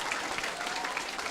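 Brief burst of applause from an audience at a Filipino question-and-answer talk, fairly soft and dense, lasting just over a second.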